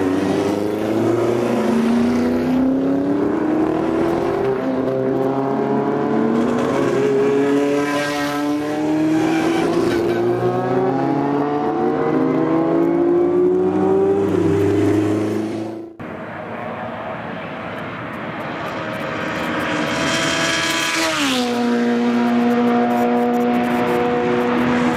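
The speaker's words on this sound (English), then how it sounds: "The F70 cars are now leaving the hot pits for their qualifying session." F70 race cars pull out of the hot pits for a qualifying session at Virginia International Raceway, loud engines revving and climbing through gears one after another, each passing up close and fading before the next arrives.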